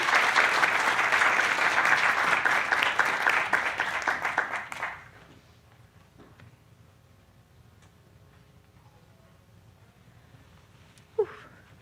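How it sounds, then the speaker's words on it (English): An audience at a children's art show claps steadily and loudly for about five seconds, then the applause stops abruptly, leaving a quiet room with faint stray noises and one brief knock. "Let's give all of our kids a big hand."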